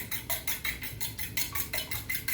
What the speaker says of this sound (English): I'm gonna just crack it in here, and then we're gonna just whisk it up just a little bit